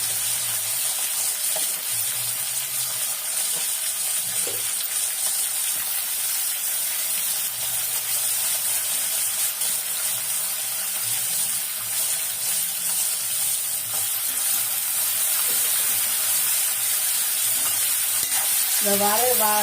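Chopped tomatoes sautéing in a pan, with a continuous dense sizzle throughout and soft stirring clatter, close up and even in level, plus a brief watery gurgle near the end and no speech.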